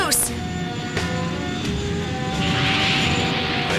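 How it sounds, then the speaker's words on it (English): Cartoon aircraft firing retro rockets, a roaring jet-like engine rush with a rising whoosh near the end, heard alone without voices. "I am now engaging retro rockets 3 and 4."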